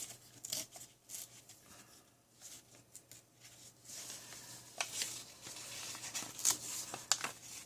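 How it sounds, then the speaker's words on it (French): Paper being torn by hand for an art journal, a few soft ripping bursts spread across the stretch, faint and close, with a steady low hum underneath. "Déchirer proprement."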